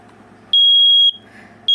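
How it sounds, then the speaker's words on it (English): A piercing high-pitched electronic beep sounds for about half a second, then starts again after a short pause, loud and close. "a unit that tells you, yeah, there's a smoke alarm going off"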